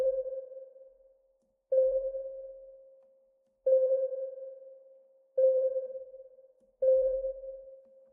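Yonac Zodiak ECHO vintage tape delay plugin with its bass and treble settings adjusted. A clean, mid-pitched sonar-like ping repeats roughly every one and a half to two seconds, and each ping decays smoothly into quiet before the next.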